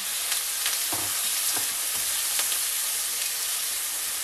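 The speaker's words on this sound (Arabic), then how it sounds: "نديرهم في الزيت. نديرو البولي تاعنا كيما راكم تشوفوا." Small chicken pieces frying in hot oil, a steady loud sizzle throughout with occasional stirring clicks, close up and with no voices.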